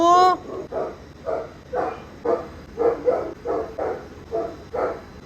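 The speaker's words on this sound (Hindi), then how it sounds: "ये इंस्टा भौंक रहा है।" A dog barks at a house gate in a steady series of about ten short bursts, evenly spaced and fairly close, with a brief voice at the very start.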